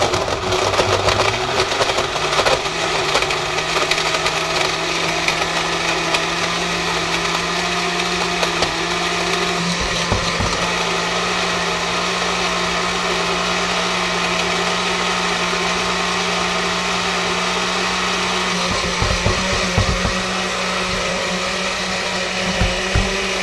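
A blender pureeing a yogurt smoothie, a loud continuous motor whir running steadily for the whole stretch with slight shifts in pitch as the mixture churns, no talk over it.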